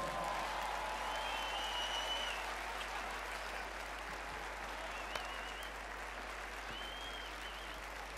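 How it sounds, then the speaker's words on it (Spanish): Concert audience applauding a performer at a 60x60 festival show, a steady broad wash of clapping filling the whole stretch with faint whistles riding over it. "Por esto os ruego un aplauso de verdad muy, muy fuerte para él."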